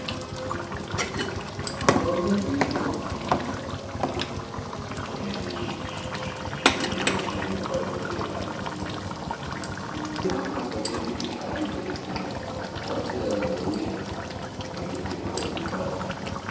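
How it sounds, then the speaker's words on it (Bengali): Dal lentils boil in a pot on the stove while meat cooks alongside, a continuous bubbling and gurgling with occasional louder pops and light clinks above the steady simmer. "এদিকে মাংস হচ্ছে আর এইদিকে ডাল সিদ্ধ বসিয়েছি।"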